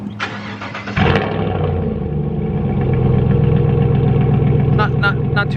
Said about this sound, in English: Cold start up, it has not been started since I got to work this morning.